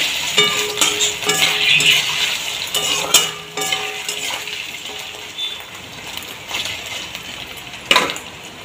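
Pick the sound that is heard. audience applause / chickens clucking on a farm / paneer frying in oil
paneer frying in oil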